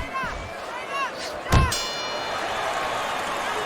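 A boxing bell rings to end the final round of a Fight Night Champion video game bout. Metallic dings come first, then a louder clang that leaves a ringing tone as a crowd murmurs behind it.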